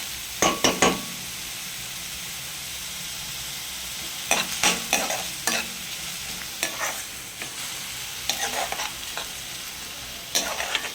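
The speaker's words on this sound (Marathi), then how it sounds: "कांदा परतून घेते मी लाल होईपर्यंत." Chopped onion frying in oil for pav bhaji makes a loud, constant sizzle, broken by clusters of spoon clinks and scrapes against the pan as it is stirred, with no talking.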